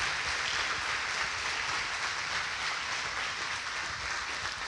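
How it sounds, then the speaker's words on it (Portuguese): A church congregation claps together in sustained, uniform applause, a thick wash of many hands at moderate volume with no gaps and no voices standing out. "Aplauda o Senhor, continue aplaudindo"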